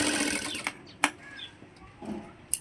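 A sewing machine stitches a size-28 princess-cut blouse: a few sharp, quiet clicks and short mechanical ticks spread over a couple of seconds against a low background hum.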